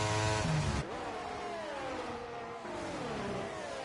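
Racing cars in a video game at Imola, with two McLarens running side by side, engines droning at a steady high pitch with shifting revs. The sound is loud and continuous, with a brief drop just before one second.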